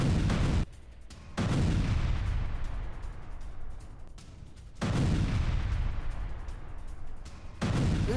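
Heavy gunfire and booming blasts during an IDF attack in Gaza, three loud bursts that each roll on for a few seconds, fading between them, with no voices.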